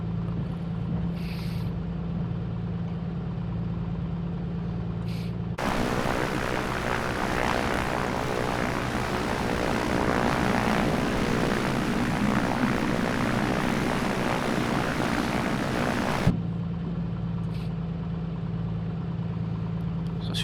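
Propeller engine of an A2A Comanche in Microsoft Flight Simulator 2024, a steady low idle that swells into a loud, broad full-power roar for about ten seconds before dropping back to a quieter drone, with no talking.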